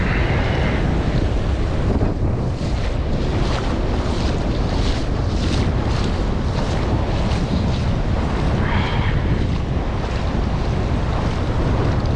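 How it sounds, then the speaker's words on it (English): Ocean waves breaking at a surf spot, a loud continuous rushing roar of surf mixed with heavy wind buffeting the microphone, with no talking. "There's nice clean waves on the inside."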